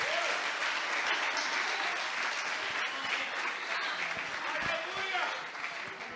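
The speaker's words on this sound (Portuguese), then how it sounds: "Quantos podem aplaudir o Nazareno, Jesus vivo?" Church congregation applauding during a sermon, a dense, steady wash of clapping from a large crowd that holds for several seconds and thins slightly at the end, with a voice faintly underneath.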